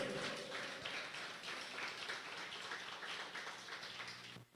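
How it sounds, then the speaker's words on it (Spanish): A church congregation applauding during a sermon, a steady dense patter of many hands clapping that carries through the whole stretch and stops abruptly at the end. "Vamos a darle ese aplauso al Rey de Reyes."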